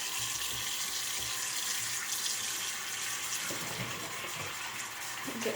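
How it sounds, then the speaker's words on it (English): A bathroom sink fills with water from the tap in a steady, close, continuous gushing rush that holds an even level from start to finish, with no talking. "So I'm going to fill up my sink"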